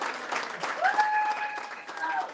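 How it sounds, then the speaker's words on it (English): Audience applause at a press event where Illinois leaders call for emergency work permits, steady moderate clapping throughout with voices and a tonal sound mixed in. "I just want everyone to give a round of applause to Erendira Rondon."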